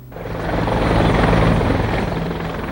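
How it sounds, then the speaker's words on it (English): Griffin military helicopter flying overhead during a Canadian Forces urban exercise, a steady loud rotor and turbine roar that swells then holds, with no voices. "On Sunday, 4 Griffin helicopters will circle the city."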